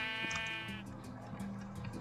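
In a block-building video game, a sheep bleats once, a wavering nasal cry that is close and clear over a soft background hum.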